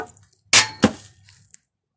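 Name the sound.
engine oil drain plug falling during oil change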